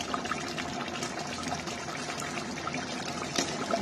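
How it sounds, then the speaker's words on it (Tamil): Water pours steadily into a cooking pot of mutton biryani, a continuous close splashing trickle with no talking. "இப்போ தண்ணி ஊற்றணும்."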